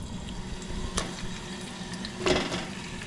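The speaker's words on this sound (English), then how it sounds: "You can start hearing some of that sizzling" A duck breast for duck à l'orange sizzles in a pan, a low steady frying crackle with a couple of brief louder spits and clatters, close and quiet without speech.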